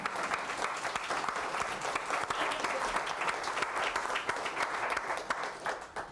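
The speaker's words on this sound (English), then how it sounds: "You want to clap for that?" A small audience at a talk on a family's history and a cemetery claps together in a dense, even round of applause, fairly faint and distant, with almost no talk over it.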